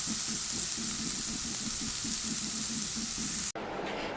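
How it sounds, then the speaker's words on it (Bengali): Yardlong beans fry in a pan with a steady, close sizzle throughout, plus faint stirring scrapes; the sizzle abruptly drops to a quieter hiss near the end. "আর এই পাশটায় রান্না করছি বরবটি ভাজি।"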